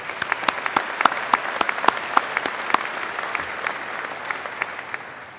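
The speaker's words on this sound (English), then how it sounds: "we also deserve a round of applause for accomplishing our true goal of graduating" Sustained applause from a large audience at a University of Waterloo convocation ceremony, a dense wash of clapping with sharper individual claps standing out near the start, steady throughout and slowly thinning toward the end.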